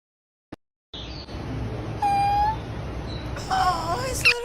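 A pet cat gives a few thin, high squeaky meows, close by, with a steady background hiss and some brief noises.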